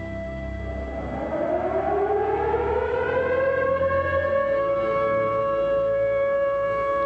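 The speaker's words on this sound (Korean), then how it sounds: "통금 사이렌이 우리 일상의 매정한 마침표로 울리면" A curfew siren of the kind sounded nightly in postwar Korea until the 1980s, its wail sliding upward and then holding a loud, steady, layered tone with nothing else audible.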